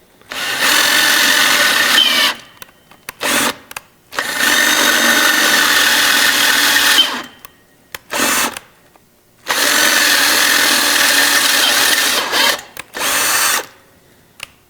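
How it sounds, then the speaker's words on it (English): A power drill bores holes during final assembly of a 350 engine, loud close whirring bursts of several seconds separated by short pauses and quick trigger blips. "I'll get the rest of these drilled out"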